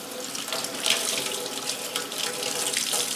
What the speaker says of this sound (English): So now I'm going to rinse it and just squeeze, squeeze, squeeze all that product out.